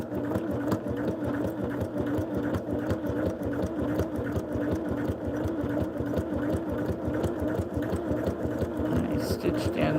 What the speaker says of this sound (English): I'm just going to flip it around and sew the other one